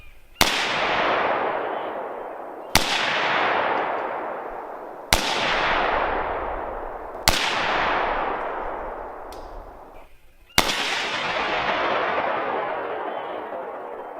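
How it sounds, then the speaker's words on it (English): A Galil military-surplus rifle fires five separate loud outdoor shots at zombie targets, each sharp crack followed by a long rolling echo that fades before the next. "So, let's take the Galil and shoot some zombies."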